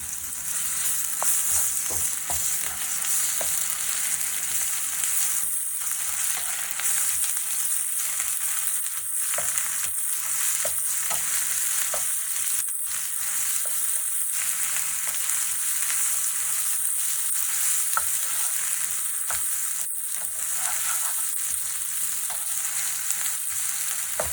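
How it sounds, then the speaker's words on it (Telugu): Ginger garlic paste frying with onions in hot oil for egg pulao, a steady loud sizzle throughout with occasional stirring scrapes, no talking. "అల్లం వెల్లుల్లి పేస్ట్ వేసుకొని ఫ్రై చేసుకోవాలి."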